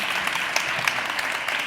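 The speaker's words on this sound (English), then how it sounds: "You can clap now." Audience applause at a community cancer event, a short, steady burst of many hands clapping at even loudness throughout.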